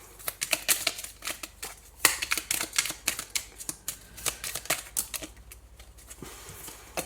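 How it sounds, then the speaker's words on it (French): Tarot cards are shuffled and one is drawn: a quick, close run of crisp flicking and snapping clicks that goes on for several seconds and then thins out. "Allez, on prend une troisième carte, dernière carte."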